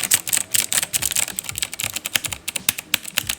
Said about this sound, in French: je vais juste vous faire entendre la différence de bruit entre les deux claviers